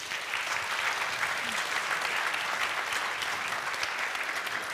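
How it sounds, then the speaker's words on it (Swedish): Warm audience applause welcoming two authors on stage at the Swedish crime fiction festival, a dense, steady clapping that holds at full strength for the whole stretch. "ni välkomnar Maria Grund och Helene Gullberg med en väldigt varm applåd."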